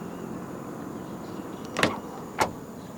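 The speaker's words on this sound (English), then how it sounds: "And to unlock the car, just press any of the black buttons again." Door locks actuating on a 2020 Mazda CX-8 2.5 SkyActiv-G with keyless entry, two quick mechanical clunks about half a second apart over a faint background hum.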